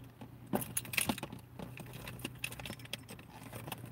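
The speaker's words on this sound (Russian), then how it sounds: "Так, что-то вот тут не могу вскрыть. Сейчас ключом, что ли," A metal key scrapes and jangles against a packaged box while someone tries to pry it open, a few sharp metallic clinks near the middle over quiet rustling, with no talk.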